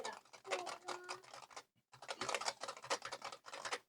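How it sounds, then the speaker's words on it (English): Rapid keystrokes on a computer keyboard clatter in quick irregular bursts, close and clear, with a brief pause midway before the typing resumes. "This is going to be me typing on the keyboard."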